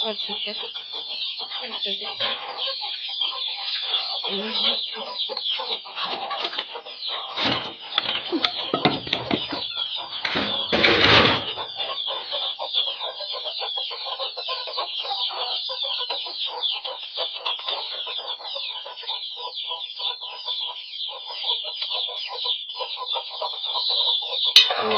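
A dense flock of chickens clucks and chatters continuously, a busy, steady chorus with occasional louder squawks rising above it.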